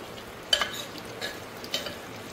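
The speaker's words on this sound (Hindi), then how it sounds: "अभी भी भुनाई चल रही है, काफ़ी देर हो गई भुनाई करते हुए" Minced mutton keema roasting in ghee in a pressure cooker, stirred with a ladle that scrapes in a few soft bursts over a faint, steady frying hiss, with no talking.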